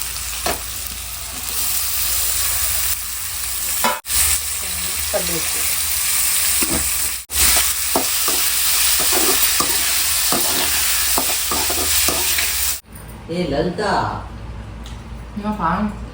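Tomatoes for a mutton kurma fry in a pan with a steady close sizzle, stirred by a spoon that scrapes now and then, while someone talks over the cooking.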